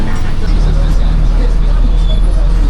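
A city bus idles with a loud engine drone while passengers board, their voices forming a busy babble over the steady traffic rumble.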